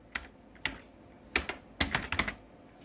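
Keys clack on a computer keyboard as QBASIC code is typed: a close, irregular run of about nine keystrokes in short bursts, with no one speaking.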